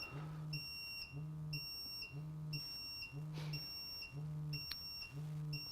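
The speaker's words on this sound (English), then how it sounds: "So it's picking up flammables now. Just went into low alarm at" A portable gas detector in low alarm on flammable gas at about 17–20% LEL, sounding close and steady with repeated electronic buzzing beeps, roughly one per second, each with high shrill overtones and no voices.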